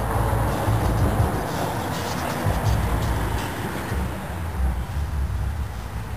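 A pickup truck drives past outdoors with rap music thumping from it, a steady low rumble and bass beat holding at moderate loudness throughout.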